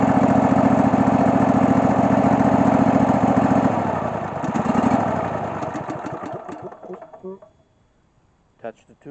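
Cub Cadet LX46 lawn tractor engine running loudly at a steady idle, then sputtering and dying out as the fuel pump shuts off, fading to near silence with a few faint clicks at the end.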